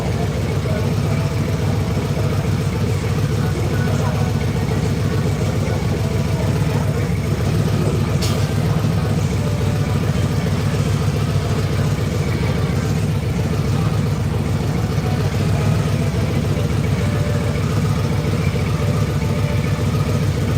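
A blue Harley motorcycle engine idles out on the Las Vegas Strip, a loud, steady low rumble that continues without a break, with city noise and voices around it.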